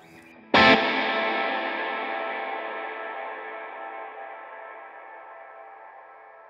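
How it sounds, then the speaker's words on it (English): An electric guitar strikes a single loud chord through a Strymon BigSky reverb pedal set to a long decay, and the washy tail fades slowly and smoothly for about six seconds, with no talking. "So that's the Big Sky. That's a long, nice delay"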